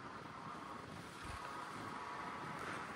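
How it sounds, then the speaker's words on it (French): Westerly gust rising ahead of a thunderstorm, a steady rushing roar with low buffeting against the microphone, constant and fairly full, no voices. "j'ai un coup de vent d'ouest, le vent se lève"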